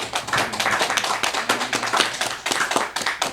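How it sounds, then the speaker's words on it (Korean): A church congregation claps together during a Korean Children's Day Sunday service, with close, brisk, dense clapping in a rapid, fairly even rhythm that stays loud for the whole stretch. "우리 박수 한번"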